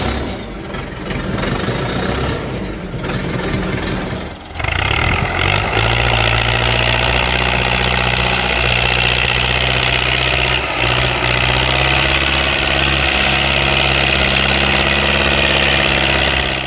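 A Rakovica 65 tractor engine roars loudly and steadily after a brief uneven start, a deep continuous rumble with heavy vibration that holds for the rest of the stretch.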